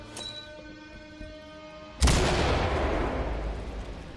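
A flashbang grenade goes off in Ready or Not, a single sharp, loud bang after a quiet stretch of faint room tone, followed by a long ringing decay.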